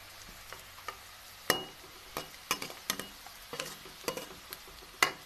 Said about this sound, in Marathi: मी टाकून घेते हिरवी मिरची लसण आणि अद्रक